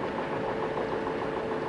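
A ship's engine runs in the film The Sand Pebbles, a steady dense mechanical drone with constant loudness and no pauses, close and unaccompanied by voices.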